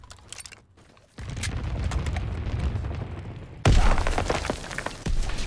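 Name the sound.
anti-aircraft battery firing bursts, from a video game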